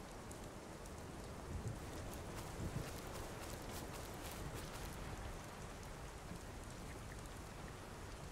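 Steady video game rain pours down in a constant hiss, with scattered drops pattering close by; no voices, just the unbroken wash of rainfall throughout, in the game Beyond: Two Souls.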